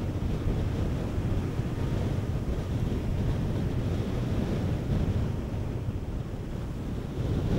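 Harsh harmattan desert wind blows ahead of a sandstorm, a continuous broad roar buffeting the microphone with slight surges and no voices.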